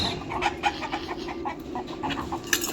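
Chickens, hens and a rooster among them, cluck and squawk close by while being fed, short calls repeating over a steady farmyard bustle.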